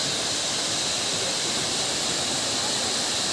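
Waterfall pouring from a great height at a scenic outdoor spot, a steady, dense broadband roar that holds constant and loud throughout with no breaks.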